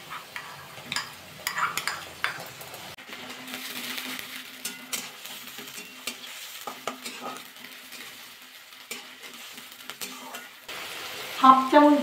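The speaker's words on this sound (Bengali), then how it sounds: "পেঁয়াজ রসুন আদাটা ভালো করে একটু ভাজা করে নেব, কাঁচা গন্ধ চলে যাওয়া অবধি ভাজা করে দিতে হবে।" Onion, garlic and ginger paste frying in a pan for an egg and soybean curry, a soft sizzle under repeated stirring and scraping with occasional utensil clinks against the pan.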